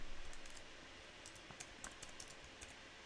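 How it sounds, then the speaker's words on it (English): Computer keyboard typing as an SQL ALTER TABLE command is entered, heard as a faint run of scattered clicks with short pauses between them and no voice over them. "And let's type alter table."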